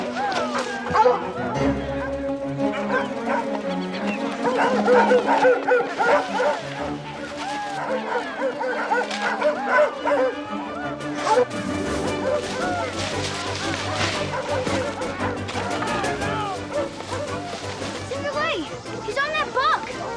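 Several hunting dogs barking and baying in excited overlapping cries on a rabbit trail, mixed with people talking over them throughout.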